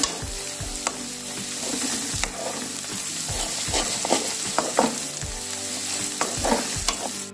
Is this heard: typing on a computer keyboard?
no